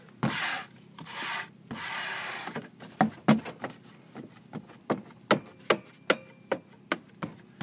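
A squeegee rubs firmly over Armaflex foam insulation being fitted on a sweating air handler, first in long scraping passes, then in a steady run of short rhythmic strokes, close and alone.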